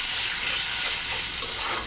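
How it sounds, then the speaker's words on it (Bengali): Water poured into spice mix frying in a pan sets off a steady, loud broadband hiss and sizzle that holds evenly across the short stretch with no talking. "এবার বাটি দেওয়া জল দিয়ে দেব।"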